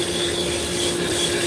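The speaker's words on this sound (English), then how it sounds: "we're just going to use some 40 grit sandpaper to machine it" 40 grit sandpaper rubbing hard against a workpiece, producing a continuous coarse scraping rasp, loud and close with a faint steady tonal hum beneath it, and no talking.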